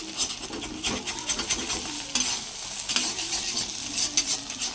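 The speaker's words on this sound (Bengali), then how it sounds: "এরকম শুকনো শুকনো করে পোড়া পোড়া করে ভাজতে হচ্ছে" Mashed giant taro (mankochu) leaf paste sizzles in a pan while being dry-fried until browned, with steady stirring and spatula scrapes against the pan and no talking.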